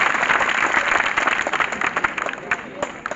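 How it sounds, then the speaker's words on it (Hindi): Students at a coaching centre event in a hall break into loud, sustained applause, a dense wash of many hands clapping that thins slightly toward the end, with faint voices underneath. "मैं चाहता हूँ एक बार जोरदार तालियां"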